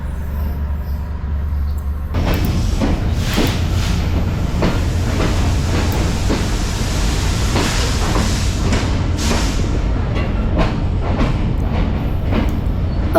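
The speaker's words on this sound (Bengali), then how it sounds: "ট্রেনের সেই ঝনঝনানি শব্দ আমার মনের ভেতর এক অপরিসীম শান্তি।" A Bangladesh Railway express train rolls through the night, its loud, steady rumble punctuated by rhythmic clattering of wheels over rail joints, heard from inside the carriage after a quieter opening.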